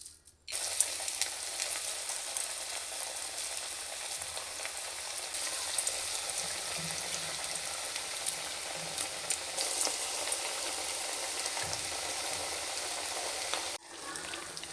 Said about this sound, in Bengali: এখন প্রথমে হচ্ছে পেঁয়াজটা ভেজে নেব